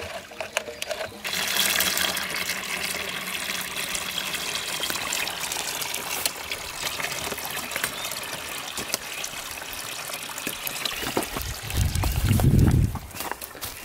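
Stream water flowing at a ram pump intake, a steady close rushing and gurgling that runs throughout, with a brief louder low splash near the end.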